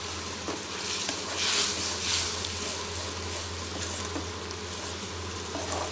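Potato manchurian sauce made with tomato sauce and vinegar comes up to a boil in a pan, giving a steady soft sizzling bubble with brief brighter hisses, close and continuous with no voices.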